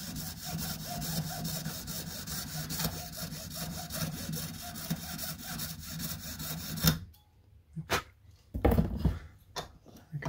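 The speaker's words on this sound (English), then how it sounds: "I'm using a jeweler's file" A jeweler's file rasps across carbon fibre cockpit glazing in quick back-and-forth strokes, a dense, gritty scraping that runs continuously, then breaks into a few separate short strokes after a pause.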